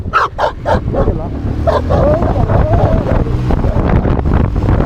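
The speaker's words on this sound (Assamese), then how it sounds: "কুকুৰকেইটা চাওকচোন কি মৰম লাগে" Several dogs bark in quick bursts near the start, then keep yipping amid gusty wind noise and some talking.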